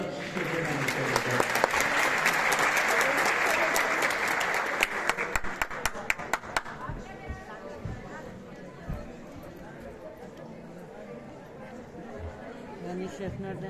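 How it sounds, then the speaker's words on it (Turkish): Applause and crowd chatter for a village headman about to recite a poem at a community gathering, loud and steady for several seconds, then tapering into scattered claps and murmuring voices. "Kocaman bir alkış seslendirecekler"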